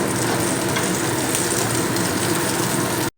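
Eggplant and potato pieces fry in a pan with a loud, steady, dense sizzle that holds without a break for about three seconds, then cuts off abruptly at the end.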